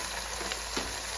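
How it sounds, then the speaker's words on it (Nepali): Pork trotters and meat fry with garlic in a pan, giving a steady, even sizzle with a couple of brief stirring scrapes partway through. "अब यसलाई भुट्दै चलाउँदै गर्नुपर्छ"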